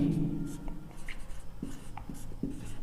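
Short scratchy strokes of writing out a definition on a board in a physics lesson on lenses, a few brief marks set against a low background hum.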